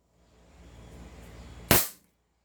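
An AWC 7.0 Infinity competition-grade airsoft pistol, upgraded and modified for high FPS, fires a single sharp, loud crack after a low rising hum, then falls silent.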